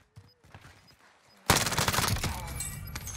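Sniper fire and a burst of gunshots in the Call of Duty Warzone video game erupt loudly midway, with dense rapid firing and game noise following quieter moments.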